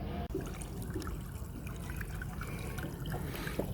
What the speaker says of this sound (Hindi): लेमन ग्रास को पानी दे दिया है और काफ़ी भर के पानी दे दिया है